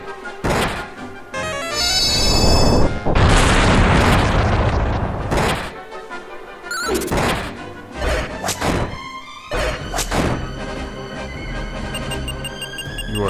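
Kaboom explosion spell cast in the Dragon Quest V video game, a long loud booming blast that rumbles for a few seconds, followed by further thuds and bright game effect tones.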